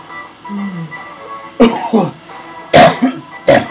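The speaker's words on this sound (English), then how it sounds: "Oh, I hate these coughs." Three sharp, harsh coughs close by, each a sudden burst, following a brief quiet stretch at the start.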